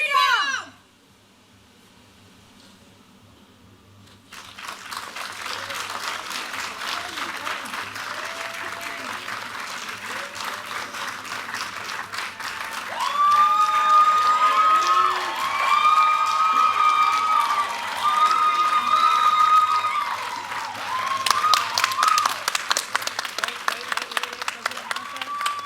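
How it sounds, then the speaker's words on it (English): A large theatre audience applauds steadily after a performance, with cheers and whoops rising over the clapping toward the end; the applause starts after a brief quiet moment. "A huge round of applause"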